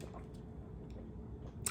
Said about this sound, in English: which I'll say right after I drink some water